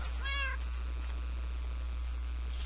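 A Minecraft cat lets out a single short, clear meow near the start, followed by steady low background hum with no talking.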